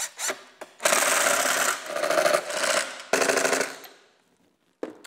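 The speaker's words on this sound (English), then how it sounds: "take our impact with our number 3 on it, put it in there, and get everything nice and snug" An impact driver fitted with a number 3 bit tightens fasteners on a Minn Kota Terrova trolling motor mounting plate, producing several loud, close rattling bursts of hammering with short gaps between them.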